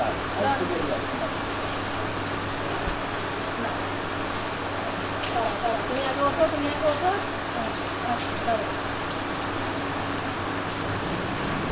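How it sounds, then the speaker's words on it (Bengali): Light rain falls steadily outdoors as a soft, even wash of patter throughout, with people talking over it and a low steady hum underneath. "বৃষ্টিটা না কম আছে"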